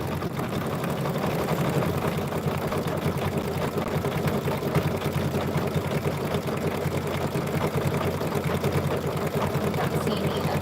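A sewing machine runs steadily while stitching a mug rug, a continuous close motor whir with a fast mechanical chatter that holds an even level from start to finish, and nobody speaks.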